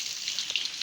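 Rain falling outside a house with a verandah, a steady dense hiss of drops pattering on surfaces, fairly faint and continuous with no voices.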